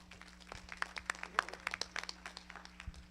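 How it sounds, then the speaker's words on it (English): A church congregation clapping hands together at a Wednesday Bible study, a quiet scattered patter of claps over a low steady hum, fairly faint and without talk. "Clap your hands."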